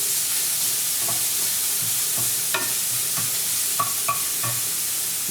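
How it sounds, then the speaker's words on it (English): Onions and spinach sizzle steadily in a frying pan, a dense constant hiss with a few soft clicks and scrapes of stirring, close and without voices. "You can hear the sizzling going on."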